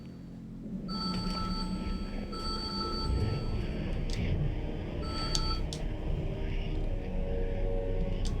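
An electronic phone ring in the horror game Eternal Darkness sounds in repeated tonal bursts over a low rumbling ambient drone, fairly clear and steady with no talk.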